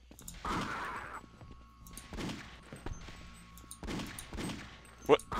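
Gunfire in the game Half-Life: Opposing Force, a few separate bursts of shots spread across the moment, mid-distance and moderately loud, with a voice talking between them.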